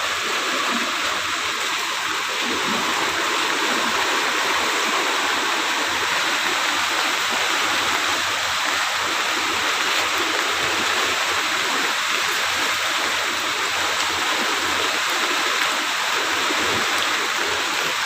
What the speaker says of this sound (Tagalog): sobrang taas talaga ng baha dito